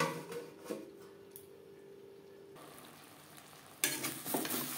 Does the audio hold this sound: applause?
no